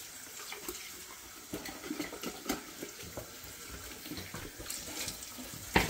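A kitchen faucet runs in a steady, fairly quiet stream, with soft splashing and a few clinks and knocks from handling at the sink while a turkey is being prepared.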